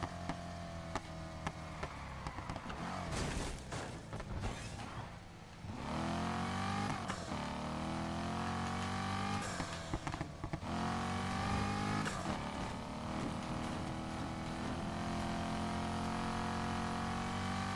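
A car engine in Need for Speed Heat revs hard and accelerates, a loud continuous roar that climbs through gears, drops briefly near the middle and then surges again.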